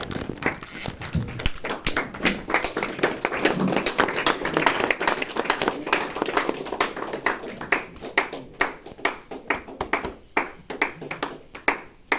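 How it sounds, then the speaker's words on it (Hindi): Audience at an ashram spiritual retreat applauding to welcome a guest, dense hand clapping that thins into scattered, sharp individual claps toward the end, with indistinct voices underneath. "जबरदस्त तालियां, जबरदस्त तालियां।"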